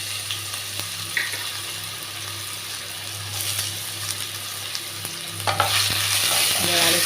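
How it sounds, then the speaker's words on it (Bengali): Potatoes frying in a pan with five-spice seeds, stirred with a metal spatula: a loud steady sizzle with scraping strokes, growing busier toward the end, close and without speech. "এবার আলুটাকে একটু নেড়ে নিচ্ছি।"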